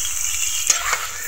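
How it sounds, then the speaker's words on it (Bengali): Sliced pointed gourd (potol) fries in hot oil with turmeric, salt and chili powder, giving a steady close hiss with a couple of brief utensil scrapes and no talking. "এভাবে 2 মিনিট পটলগুলোকে ভেজে নিতে হবে"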